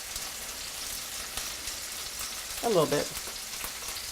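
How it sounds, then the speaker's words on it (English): Pork with shallots and bourbon sizzling in a pan: a steady, soft crackling fry runs throughout, and a brief spoken phrase rises over it near the end. "And you can hear that pork sizzling."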